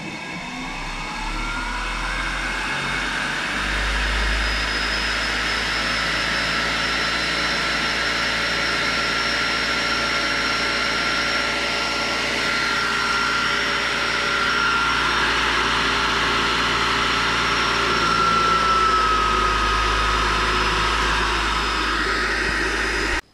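Micro hydro turbine running on water from nozzles after rain, a steady whirring drone that rises and holds as it spins back up, with a faint whine above, loud and close, no talk.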